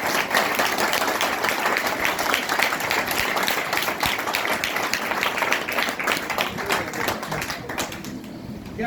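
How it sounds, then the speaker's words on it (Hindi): An audience at a paint training session claps together in a dense, sustained round of applause, close and loud, holding steady before thinning slightly near the end. "ताली बजाओ।"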